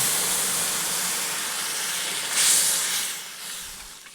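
Milk poured onto melted, reddened caramelized sugar in a pan for red vermicelli sets off a loud continuous steaming hiss, swelling briefly near the end before easing off.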